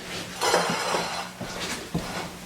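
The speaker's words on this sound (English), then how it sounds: "I'm gonna go bring my pan back over here." A pot used for cooking noodles for spaghetti clatters as it is carried and set down, with a rustling metallic shuffle followed by a few light, close clanks, no talk.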